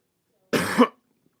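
A single short cough, close and fairly loud, in otherwise silence.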